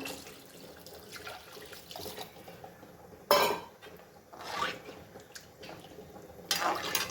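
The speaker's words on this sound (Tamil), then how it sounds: "இது கூடவே குழம்புக்கு தேவையான அளவு தண்ணி ஊற்றிக்கிறேன்." Water pours and splashes into a cooking pot nearby for a tamarind curry, with occasional clinks of metal cookware amid the running water.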